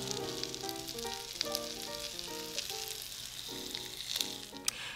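Zucchini blossoms sizzle steadily in a hot pan, a bright crackling hiss with soft music playing underneath and an occasional sharper pop.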